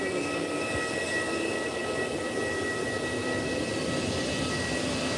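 A British Airways airliner at Málaga airport, with a steady, fairly loud broadband jet roar and faint high whining tones that hold throughout, and no voices.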